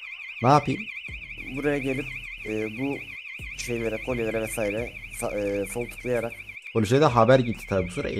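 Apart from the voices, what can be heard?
jewelry store robbery alarm ringing in MTA:SA video game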